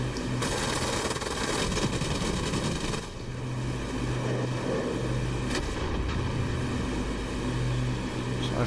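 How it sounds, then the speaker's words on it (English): A de Havilland Mosquito in a flight simulator fires bursts of machine guns and cannon, then rockets, the dense rapid shots sounding loud over a constant propeller engine drone, with a brief pause before further firing. "So I fired a few machine gun rounds, then cannon rounds, then 4 rockets."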